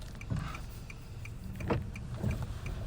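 A car drives along the road, a steady low engine and road hum with a faint regular ticking like an indicator running through it, heard from inside the cabin.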